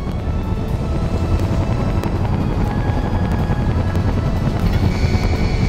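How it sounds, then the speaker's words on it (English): A helicopter flies in the VR game Final Approach, a loud, continuous rotor thrum and engine roar that stays steady and close throughout with no talk over it. "Now try landing a helicopter on the helipad, up on that hill near the tower."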